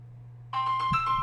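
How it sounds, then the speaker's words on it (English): Mobile phone ringtone from an incoming call bursts in suddenly at moderate loudness, a steady tonal ring continuing over a low background hum with no talk. "I guess I didn't silence my phone."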